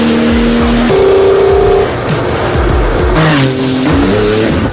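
A Porsche sports car with a 3.8-liter flat-six drives hard, its loud engine note climbing and shifting through gears while the tires squeal and skid.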